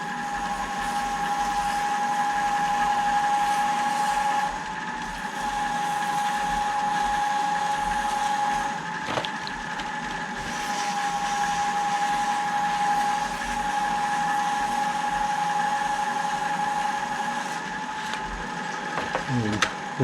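A spinning pen blank on a wood lathe at about 700 RPM gets wet-sanded with 180-grit paper, giving a steady motor hum and soft hissing friction that carries on throughout at moderate level.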